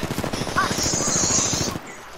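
Sustained automatic weapon fire in the video game Apex Legends, a rapid close burst of shots lasting nearly two seconds before cutting off, with a bright high tone running over the volley.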